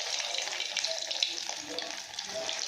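Cheese balls are dropped into hot oil one at a time. A faint, steady bubbling hiss with light watery crackles continues close by.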